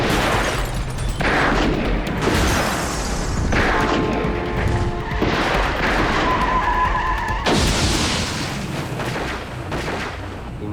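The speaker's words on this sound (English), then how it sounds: "The car hit the tree" A car skids and slams into a tree during a pursuit on a road heading south, with gunfire from a pursuing black car with a white grille; loud, dense bursts of crashing, booming and skidding noise fill the whole stretch.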